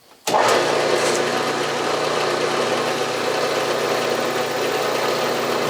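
Milling machine starting up for drilling by raising the knee, part of a Stuart Progress steam engine build in a workshop. A sudden motor start gives way to a loud, steady mechanical hum with a low drone running throughout.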